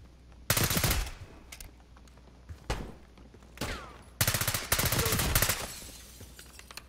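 Bursts of automatic gunfire from Call of Duty Black Ops 6 erupt in several loud, close volleys separated by short pauses, with crackling rapid shots and no speech.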